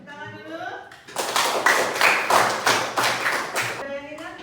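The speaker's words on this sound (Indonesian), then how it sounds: "Tepuk tangan dulu." Classroom of children clapping together in an Islamic studies lesson, a loud, rhythmic patterned clap of about eight strong beats, framed by a teacher and pupils speaking before and after.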